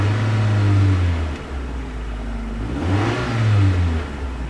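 A car engine revs while being driven, a steady low drone that swells and falls twice as the RPM climbs and eases, loud and close with no talking.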